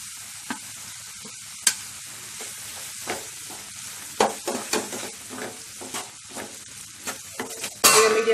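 Chhole masala gravy of tomato, salt and turmeric frying on a medium flame, giving a steady close sizzle with a spoon scraping and tapping the pan at irregular moments, louder toward the end.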